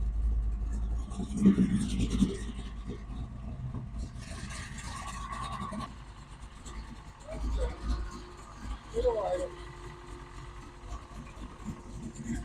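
A 1973 Camaro with a 496 big block engine runs on choke, its deep steady idle rumbling close by while people talk over it, with the note swelling briefly at a couple of moments.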